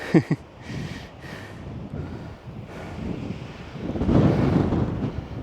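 Strong mountain wind buffeting the microphone in gusty rumbles, with a rising louder blast near the end, no talking.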